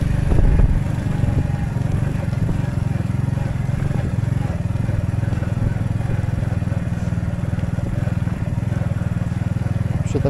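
Orion moped engine running while riding, a steady low droning putter with rumbling vibration that holds evenly for about ten seconds, loud and close, briefly stronger at the start.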